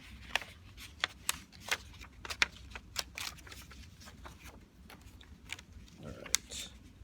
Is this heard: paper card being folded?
yes